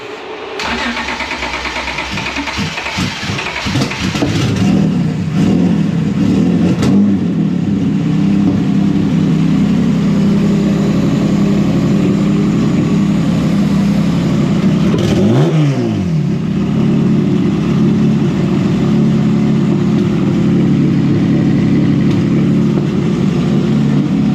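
A car engine cranks and catches after its battery has been checked, then runs with a steady mid-pitched idle and a brief rev partway through, loud and close with no voices.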